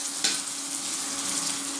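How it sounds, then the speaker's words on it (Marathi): Onion frying in a pan for bread upma gives a steady, close sizzle that runs unbroken throughout, with one brief louder crackle near the start and no voices. "तुम्ही बघू शकता कांदा कसा भाजत आहे."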